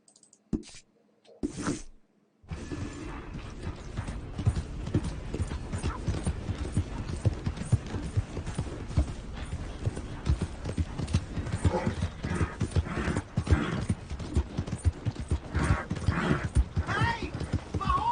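Rhythmic clip-clop of horse hooves trotting steadily after a brief pause, with a faint whinny and low ambient background, in a video game.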